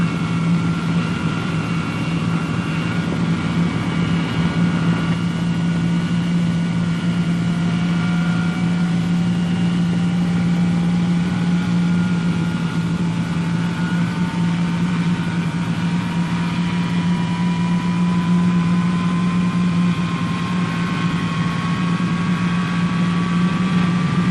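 Jet engines of a 1952 Boeing B-47 bomber spool up during start, a steady loud turbine roar with a low hum and a slowly rising whine that climbs across the whole stretch, with no voices.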